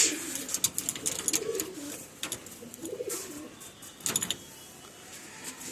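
Pigeons coo close by, soft throaty warbling calls coming in several bursts, mixed with wing flutters and light clicking movement.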